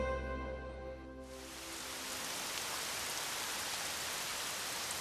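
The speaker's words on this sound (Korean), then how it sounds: "비가 부슬부슬 내리는 날씨 속에서" Light drizzling rain falls on a Chinese cliffside plank-walkway worksite, a steady soft hiss that rises after a brief quieter tonal opening and then continues evenly.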